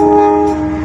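Train arriving at Walikukun station in Java, a loud, steady horn blast sounding close by for under a second, with no speech.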